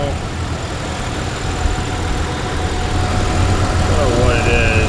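A 2016 Toyota Tacoma TRD Off-Road engine idles at low RPM with a chirping pulley. A continuous, close mechanical hum and rumble carries a faint, high, squeaky chirp that becomes more noticeable near the end.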